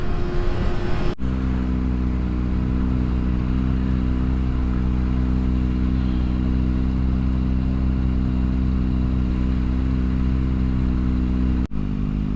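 A motorcycle engine drones steadily at cruising speed, a constant mid-pitched hum with road and wind noise, no voices.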